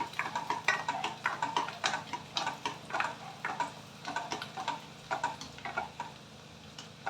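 Finely chopped mushrooms stirred in a pan with softened onions, making a rapid run of light scraping ticks and taps, close and steady, with a faint sizzle underneath and no talking.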